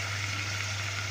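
Onion and garlic frying in a pan, a steady close sizzle with a constant low hum underneath and no voices.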